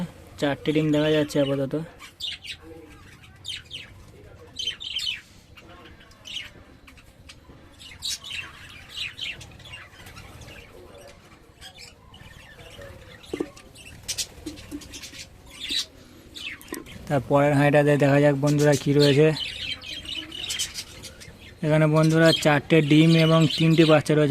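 Budgerigars in a breeding colony chirp and twitter busily nearby in bright repeated bursts, with a person talking over parts of the chirping.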